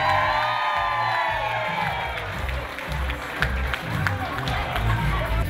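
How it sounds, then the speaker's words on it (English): A wedding reception crowd at a golf and country club claps and cheers for the wedding party's entrance, with whoops and scattered shouts under continuous applause that rises and falls. "Have an enthusiastic round of applause for Ashley Steef, escorted by Matt Savitsky."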